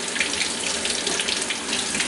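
Kitchen tap water runs steadily into a sink while sweet potatoes are rinsed before going into a crock pot, a continuous bright hiss close by with no talk.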